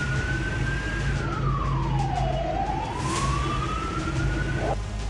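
A loud wailing siren rises and falls steadily and close by, sounding alone over constant street rumble, as tanks roll through the streets outside the presidential palace in Bolivia.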